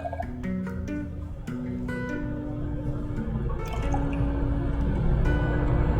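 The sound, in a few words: water poured into a beaker for measuring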